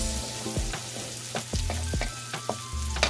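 Onion frying in a pan for escabeche sauce gives a steady close sizzle, broken by a few clinks and stirring scrapes, with no voices.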